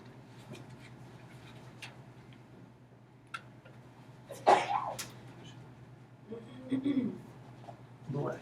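A single sneeze in a classroom, a sharp burst standing out over a steady low hum, followed a couple of seconds later by a softer throat sound.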